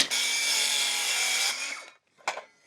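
Power saw cutting through framing lumber while building the floor frame of a 20 x 30 shop, one steady loud cut of about a second and a half that winds down, followed by a brief scraping clatter.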